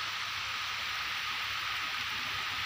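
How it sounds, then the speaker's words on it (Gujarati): Dense, steady hiss of heavy rain pouring down, unbroken and fairly loud throughout, with no voices. "જો મિત્રો વરસાદ પડે છે"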